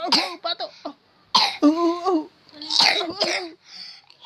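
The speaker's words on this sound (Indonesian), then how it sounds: "Wah, batuk. Batuk." Coughing, several sharp bursts in quick succession with a vocalised, voice-like stretch in the middle. Close and fairly loud, heard alone with no talk.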